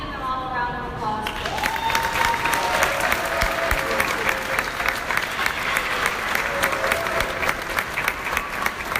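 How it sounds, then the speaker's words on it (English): At a 2017 high school graduation ceremony in a mall, an audience applauds the graduates with steady, dense clapping that lasts throughout. A voice sounds briefly at the start before the clapping takes over. "Let's give them all a round of applause."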